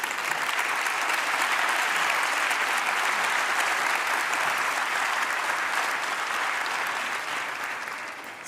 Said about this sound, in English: We all need to applaud our young generation for their creativity and enthusiasm.